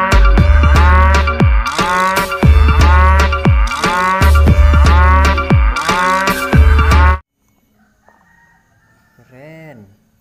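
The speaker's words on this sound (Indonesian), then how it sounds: "Apa ini teman-teman? Sapi." Loud, rhythmic cow moos repeat over about seven seconds alongside clucking and crowing barnyard calls, then cut to near silence with a faint voice.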